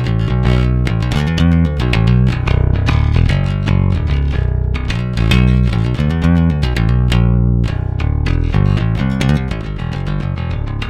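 A Fernandes copy of a Fender Jazz bass with active EMG pickups plays a dense, punchy riff with a bright, clanky attack. The tone is loud and continuous, with rapid repeated notes and no talking.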